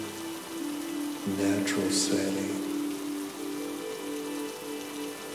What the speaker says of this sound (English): during a gentle rain shower.